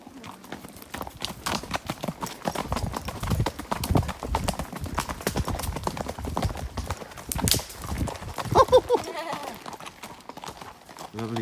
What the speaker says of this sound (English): You know what that calls for? Canter.